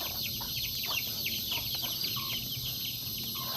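Chickens cluck and chatter softly in short bursts over a steady background hiss, fairly faint and spread out.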